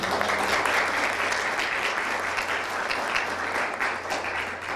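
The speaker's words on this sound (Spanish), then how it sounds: "les pido un aplauso, por favor" Steady, dense applause from a large crowd at a novel presentation, continuous and fairly loud for the whole stretch with no talking over it.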